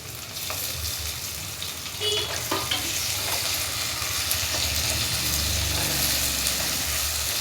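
Onion and tomato frying together in a pan, a dense continuous sizzle with stirring scrapes and a few utensil taps, close and steady throughout without speech.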